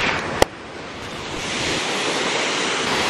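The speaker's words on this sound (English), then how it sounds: "The waterfall is right beneath me." A waterfall in Zimbabwe heard from a zipline above it, a loud, continuous roaring rush mixed with wind buffeting the microphone, with one sharp knock early on and no talk.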